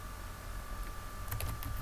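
Someone types an email message on a computer keyboard, with soft, quick key clicks that are clearer toward the end over a steady electrical hum.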